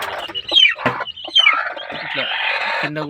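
Native country chickens settling into a small shed in the evening give off scattered clucks and chirps, some close and some further back, forming a busy, uneven chorus throughout.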